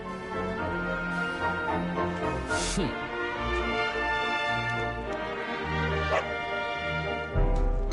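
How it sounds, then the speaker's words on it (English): A dog barks repeatedly in the Dragon Quest 11 video game, short bow-wow yelps over steady game music, fairly loud and close, with a few whimpering yips between barks. "No! Not a dog! Anything but that!"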